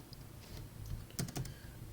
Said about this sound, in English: So like if I type hello